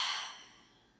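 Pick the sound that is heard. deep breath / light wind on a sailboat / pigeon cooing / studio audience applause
deep breath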